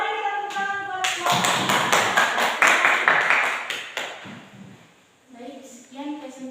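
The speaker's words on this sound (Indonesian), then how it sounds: "Oke, mari kita tepuk tangan buat semua." An audience at the close of a school coaching presentation claps in a rapid, close burst of rhythmic hand claps lasting a few seconds, with voices talking before and after.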